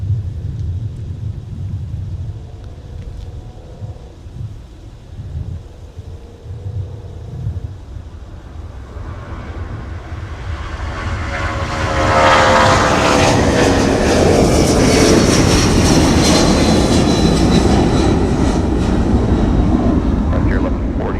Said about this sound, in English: Let's watch and listen to that Pratt & Whitney powered jet get airborne.